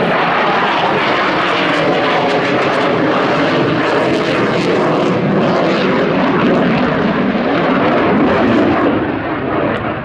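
A Romanian MiG-21 LanceR jet flies at an air show with a loud, sustained roar that stays near and powerful throughout, easing slightly at the end.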